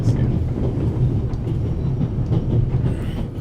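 The Orient Express train in the video game The Raven: Remastered rumbles steadily and loudly with a low, continuous rolling drone and faint rhythmic clatter, and no talk over it.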